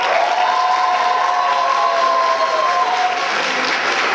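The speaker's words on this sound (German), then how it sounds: "Findet ihr, dass die Männer einen extra Applaus verdient haben?" Theater audience at a Takarazuka revue show applauding and cheering, a thick, continuous roar of clapping with a faint sustained tone running beneath it, loud and steady from start to finish.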